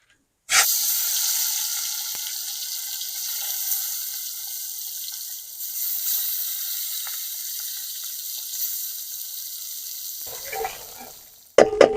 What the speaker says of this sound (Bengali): তেল গরম হয়ে গেছে এবারে মাছগুলোকে ছেড়ে দেবো